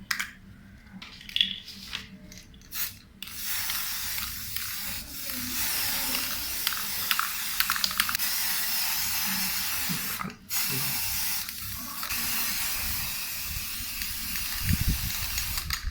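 Spray paint hisses steadily from an aerosol can onto a motorbike fog light clamp for an NS200, in long continuous bursts with a few short pauses in between.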